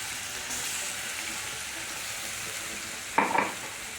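A ground chili and garlic paste fries in a generous amount of hot oil with a constant hiss, then a sudden louder clatter and scrape of a spatula near the end.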